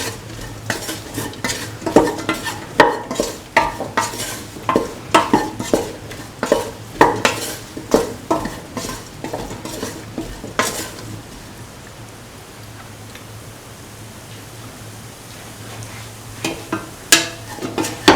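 A spoon scrapes and clatters rhythmically in a pan of mung bean and ivy gourd rice with garam masala, loud and close over a faint sizzle, then pauses briefly before a few more stirring knocks.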